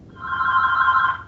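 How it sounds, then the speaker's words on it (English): A telephone rings in one steady, sustained electronic trill, loud and close, with no talking over it. "he's answering the phone"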